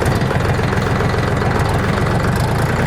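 A DTZ 354U tractor's diesel engine runs in first gear, second range, with a loud, close, steady low rumble and a knocking throb throughout, with no voices.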